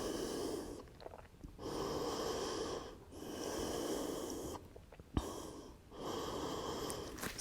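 Slow, audible breaths during a yoga core exercise: long airy inhales and exhales in a steady cycle, close and alone, with a brief sniff near the end.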